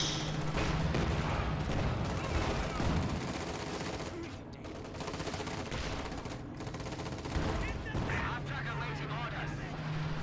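Incendiary artillery shelling and gunfire in a World War II strategy video game, a dense, continuous barrage of bursts and rattling shots with a low hum, loud throughout and steady apart from a brief dip in the middle.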